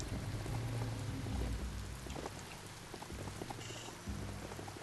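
Rain in the Biomutant video game falls as a steady, quiet patter of drops with low rumbling underneath, heard alone without talk.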